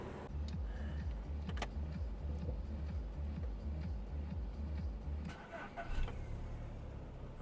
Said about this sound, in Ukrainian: Автомобіль завівся з півтику. Працює тихо, рівно, не димить, не троїть.